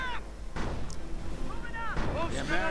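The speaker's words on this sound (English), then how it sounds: "Heavy anti-tank gun fire against the Panther." Booming anti-tank gun shots and impacts in the wartime strategy game Company of Heroes, several heavy reports spaced across the moment, mixed with whistling shell sounds and battlefield noise beneath a commentator's voice.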